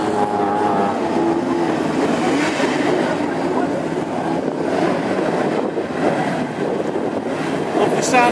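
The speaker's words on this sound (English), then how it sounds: "Love the sound of these engines, these Pintos and Crosslows that we have at present." Hot rod race cars with Ford Pinto and Crossflow engines idling and revving along a sunny pit lane, a continuous loud, rough mechanical roar with a commentator's voice faintly over it.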